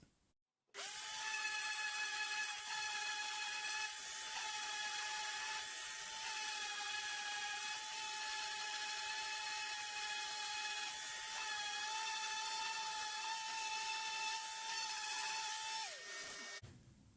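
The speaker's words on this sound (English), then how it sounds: "I'm just quickly going to sand the inside faces with some 120 grit" A power sander runs against the inside faces of a wooden bunk bed with 120 grit sandpaper, a steady close whine that starts abruptly and holds level for about fifteen seconds before cutting off, with no talk.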